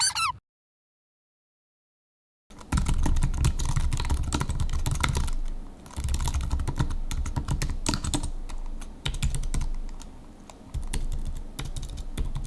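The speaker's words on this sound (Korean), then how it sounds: "키캡이 약간 뭔가 얇은 플라스틱을 누르는 듯한 느낌이에요" Rapid, steady typing on a tenkeyless keyboard with thin plastic keycaps, paired with a Mac, rattles on continuously and up close after a short silent opening, with no one speaking.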